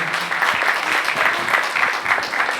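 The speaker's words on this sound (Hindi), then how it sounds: "जोर से तालियां बजाएं कृपया सभी।" Audience at a church conference applauds to welcome a guest, steady brisk clapping from a crowd, loud and continuous throughout.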